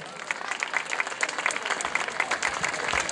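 An audience at a local talent show applauds a big band as it is introduced, a steady crackling burst of many hands clapping, moderately loud and continuous.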